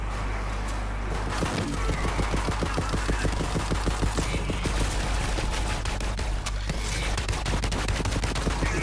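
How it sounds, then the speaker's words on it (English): Rapid automatic gunfire from the video game Borderlands 3, loud and sustained in dense bursts of closely spaced shots that run almost the whole time over a busy layer of game sound. "I'm just like riddling this guy in the face with fucking bullets so bad."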